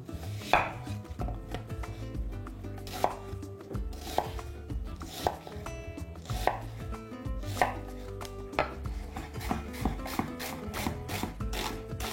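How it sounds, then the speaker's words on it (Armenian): A medium onion is chopped finely with a knife on a cutting board in a kitchen, a fast, steady run of close, crisp chopping taps over roughly twelve seconds with no talking. "Կվերցնեմ մեկ միջին չափի սոխ։ Մանր կտրատում ենք այն։"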